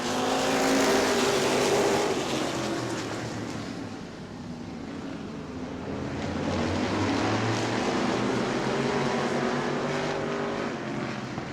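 Several race cars roar around the track at Auburndale weekly racing, engines loud and steady throughout with rising and falling pitch as the pack passes.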